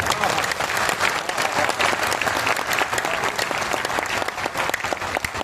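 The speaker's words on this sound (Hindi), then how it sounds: "आपकी बजी हुई तालियों ने इस बात की आश्वस्ति दी कि कवि सम्मेलन ऐतिहासिक होगा" An audience at a Hindi poetry gathering (kavi sammelan) claps steadily, a dense, loud, sustained round of applause from a large crowd.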